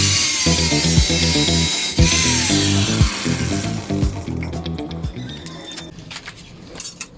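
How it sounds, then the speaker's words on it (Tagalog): An angle grinder cuts through 9mm steel bar, producing a loud sustained whine that holds for several seconds, then tapers off into scattered clinks and scrapes. "pag nagkakating tayo guys ng bakal, so kailangan may guard itong grinder natin para iwas aksidente"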